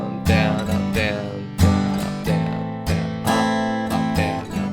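Acoustic guitar strums the second chorus of a song in a steady down-down-up pattern, bright chords with crisp repeated attacks and shifting changes, close and clear with no voices.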